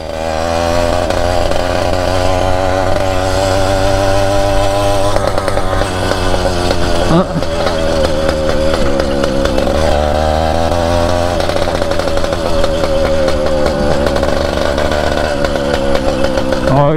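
A motorized 20-inch bicycle's small engine runs steadily and loudly throughout, its buzzing note rising and falling with throttle changes as the bike rides back onto the street after sitting unused for a month.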